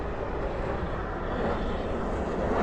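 Airliner at DFW airport on landing rollout with spoilers up and thrust reversers deployed, a steady, broad, loud engine roar with no talking over it.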